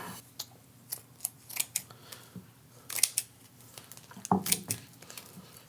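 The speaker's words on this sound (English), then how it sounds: "The easiest way is with a pair of sharp kitchen scissors." Close, crisp snips of kitchen scissors cutting through meat netting, coming in an uneven series of short cuts with brief pauses between.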